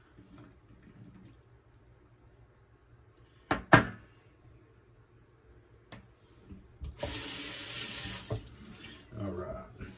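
Water runs from a tap to fill the bottom cap for blooming a shaving soap puck, a steady hiss of about a second and a half after a couple of bumps and knocks, with softer splashing at the end.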